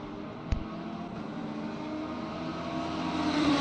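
BMW and Cadillac race cars on the start-finish straight at Monza in a racing game, a sustained engine drone building gradually in pitch and volume, with one sharp click near the start.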